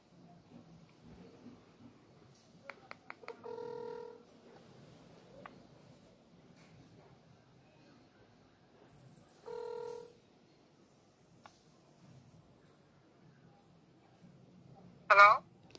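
Telephone dialing tones on a prank call: a short run of touch-tone beeps followed by repeated ringback tones, one long and several brief, with a quiet room and faint background murmur in between and a sharp burst at the end.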